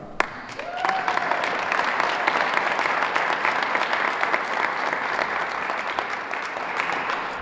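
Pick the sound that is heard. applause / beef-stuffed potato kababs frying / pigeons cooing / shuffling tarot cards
applause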